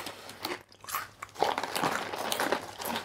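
Someone biting and chewing heavy, extra-crunchy Maui style chips from a Japanese 7-Eleven, with several loud, close, irregular crunches over a few seconds and no talking.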